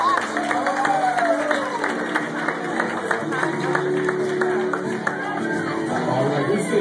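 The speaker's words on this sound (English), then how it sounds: "Let's give a round of applause" Wedding guests applaud steadily in a crowded room, a continuous patter of clapping mixed with chatter and the occasional shout.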